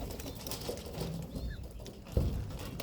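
A flock of pigeons in a loft coos in low murmurs, with a brief wing flap or bump near the end and a steady background hum.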